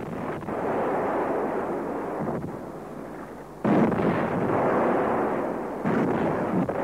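Booming cannon shots ring out for a celebration in a narrated Bulgarian fairy tale, heavy rumbling blasts rolling one into the next with a sharp new report midway and another near the end, no voices.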